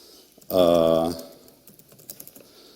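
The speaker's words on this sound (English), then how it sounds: "I'll remember to type an @ sign now" Light tapping on a computer keyboard follows a brief sustained voiced hum, then continues as soft, irregular keystrokes under a faint background.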